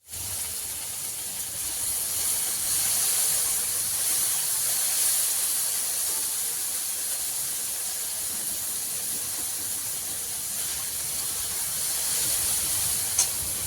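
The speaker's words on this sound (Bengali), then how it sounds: "দেখুন এখানে ঢেঁড়স ভাজা হচ্ছে" Okra frying in a pan, a steady bright sizzling hiss of hot oil that holds at an even level throughout, close and continuous with no talking.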